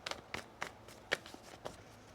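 Tarot cards shuffled by hand during a reading, giving a few quiet, separate riffling bursts close to the microphone with short pauses between them and no talking.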